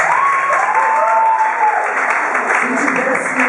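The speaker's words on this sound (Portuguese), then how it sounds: "uma salva de palmas aí para ele aí" An audience claps for a teacher at a hip hop talk in a school, steady close applause throughout while a voice speaks over it.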